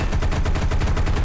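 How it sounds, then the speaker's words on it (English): A burning aircraft in War Thunder breaking apart, with rapid loud popping explosions in a dense, continuous rattling sequence. "You can hear the multiple explosions and such."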